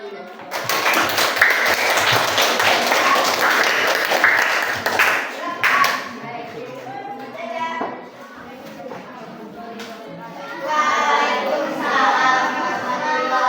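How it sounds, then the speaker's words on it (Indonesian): Students in a classroom clapping for a lesson, loud brisk clapping from a group of children that breaks up after a few seconds into scattered claps, chatter and talking, with the voice of a teacher following. "kita kasih tepuk tangan dulu"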